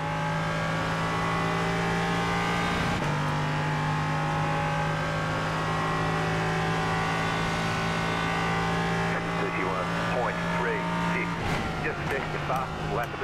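An LMP3 race car laps Zandvoort in a racing video game, its engine holding a steady high-pitched drone with gear-change shifts and revs rising and falling through corners, loud throughout.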